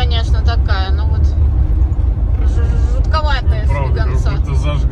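A homemade motorhome drives over a rough road with a steady loud low rumble from inside the cabin, while people talk over it.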